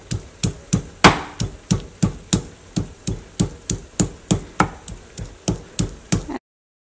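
Three large garlic cloves are crushed for garlic sauce, heard as a steady run of sharp pounding knocks, about two or three per second, close and loud with no talking.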